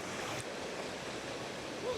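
Water of a clear river at Sitio Sawong, Barangay Suba, Sugod, Southern Leyte rushes in a steady broadband wash, fairly loud and continuous, with some wind buffeting the microphone.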